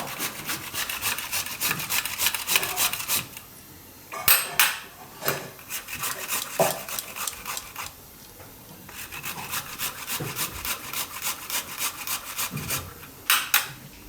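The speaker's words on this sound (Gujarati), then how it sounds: "તેલ ગરમ થાય ત્યાં સુધીમાં હળદર છે એને આપણે છીણી લેવું આ રીતે." Fresh turmeric root being grated in a home kitchen makes rapid rhythmic scraping strokes in several bursts separated by short pauses, close and moderately loud.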